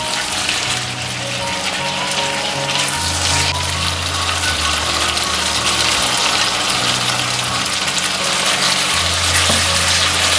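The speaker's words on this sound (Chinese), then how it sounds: "加一点清水" Water poured into a hot wok of oyster sauce beef stir fry, giving a loud, steady sizzling rush with a low rumbling hum underneath, continuous throughout.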